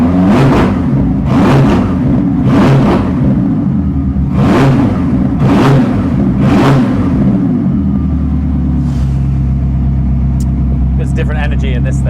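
A Koenigsegg Gemera V8, rev-limited to 4,000 rpm, is blipped repeatedly. Six sharp, loud revs come in a steady rhythm, then the engine settles into a close, steady idle with a brief mechanical whir near the end.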